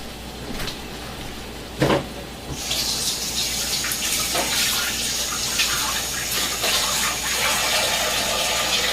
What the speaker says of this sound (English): the pasta is about drained